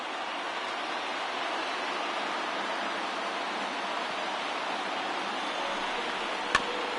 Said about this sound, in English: Now what's left of this crowd this afternoon gets to their feet.